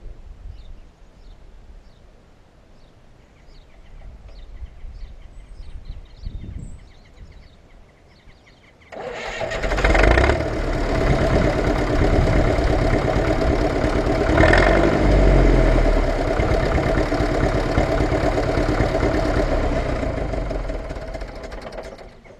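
A Fordson Power Major tractor engine is heard, first faint ticking and low rumble, then a loud start at about nine seconds that settles into a steady, close diesel run with knocking pulses.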